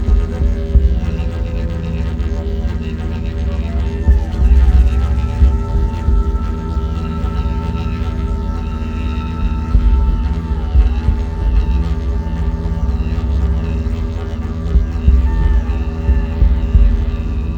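A didgeridoo plays a deep, continuous drone with a throbbing low pulse and shifting overtones, loud and steady throughout, with no voices.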